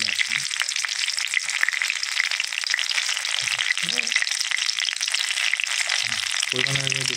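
Bay leaves and dried chilies hit hot oil in a pan, giving a bright, continuous crackling sizzle close up, with a few low murmuring sounds underneath.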